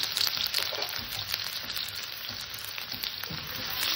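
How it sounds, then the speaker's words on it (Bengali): Chopped onion frying lightly in hot mustard oil that already holds cinnamon, cardamom and cloves: a steady close sizzle with a bright hiss, broken by a few soft stirring scrapes, and no voices. "পেঁয়াজটাকে নিচে হালকা করে ভেজে নেব"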